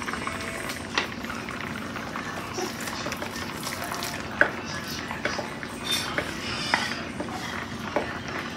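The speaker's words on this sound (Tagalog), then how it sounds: "So, guys, kumukulo na yung ating mixture." A pot of squash soup mixture simmering at a low, steady bubble, with occasional clinks of a pot or utensil in a kitchen.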